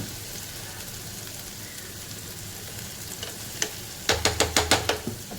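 Stuffed okra (bhindi) with green masala frying in a pan, a steady close sizzle with stirring and a quick series of sharp scraping taps near the end.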